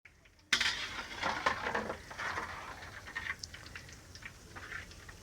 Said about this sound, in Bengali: কালো জামটা ভাজা শেষ।